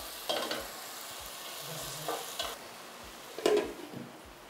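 Eggs fry in a seasoned pan, giving a soft, steady sizzle with a few spoon scrapes and stirring knocks that come and go. No one speaks.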